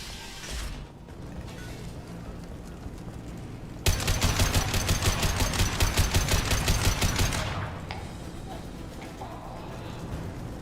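Automatic gunfire from Blue Suns mercenaries and Vorcha in the Mass Effect 2 video game, a dense burst of rapid shots lasting several seconds over a quieter mechanical ambient bed.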